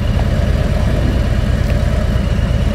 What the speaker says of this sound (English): I'm gonna shift down. There it is, to fourth gear, to third gear, to second gear, to first gear.